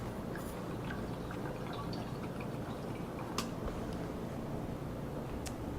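Spring water poured for a Vitamix cranberry drink, a steady close trickling and splashing of liquid with a few sharp drips, running continuously without any talking.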